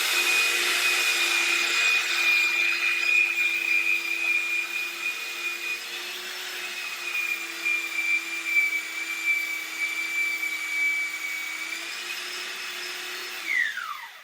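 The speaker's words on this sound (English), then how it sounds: "That thing just cleaned the top of my lathe bed." A Scotch-Brite abrasive pad scrubs a lathe bed in a shop, making a steady, loud whirring hiss with a thin high whine that runs unbroken for about fourteen seconds and ends in a quick falling whine.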